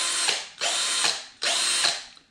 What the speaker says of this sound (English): I got myself a new drill.